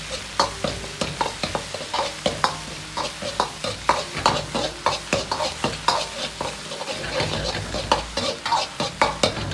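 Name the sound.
stir-frying Pixian doubanjiang bean paste in a wok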